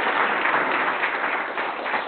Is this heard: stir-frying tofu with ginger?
no